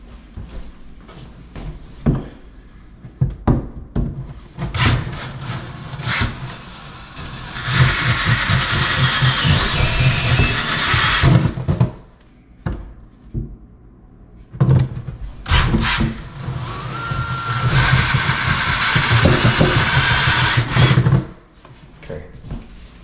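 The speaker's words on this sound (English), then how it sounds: "So I'm going to drill these down." A power drill drives screws into mud room cabinets during a mobile home renovation, heard as two long, loud whirring bursts separated by shorter clicks, knocks and scraping handling noises.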